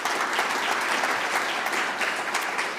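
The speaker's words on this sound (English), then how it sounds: "Round of applause for Judge Ronhell" An audience at a luncheon applauds a judge, a dense, steady wash of many hands clapping that fills the room for a few seconds before tapering slightly.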